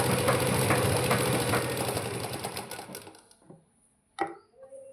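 A sewing machine stitches fabric in a fast steady mechanical whir for about three seconds, then stops; a brief clack and faint handling sounds follow in the quiet, close by with no talk.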